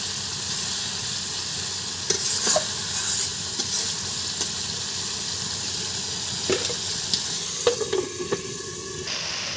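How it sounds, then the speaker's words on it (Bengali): Pieces of boal fish frying and being cooked down in masala in a pan, with a steady soft sizzle and occasional scraping and stirring clatter up close, no talk. "মাছগুলো ভালো করে কষিয়ে নেব।"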